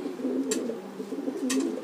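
A racing pigeon held in the hand gives two soft, low coos about a second apart, close and fairly quiet over faint background noise.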